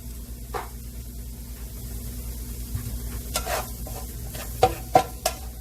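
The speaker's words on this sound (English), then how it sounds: "You can hear that sizzle." Steady low sizzling of chicken seasoned with white pepper frying in a pan, with a few sharper clinks and stirring bursts near the end.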